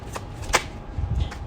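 Tarot cards are shuffled and drawn in a few short, crisp riffles and slaps close by, with quiet gaps between them.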